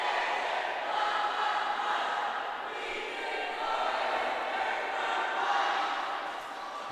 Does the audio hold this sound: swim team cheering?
yes